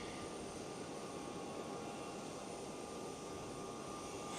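Jet airliners at Amsterdam Schiphol airport, including Boeing 777s and an Airbus A330 freighter, produce a steady broad engine roar that fills the whole stretch at an even, moderately distant level, with no talk.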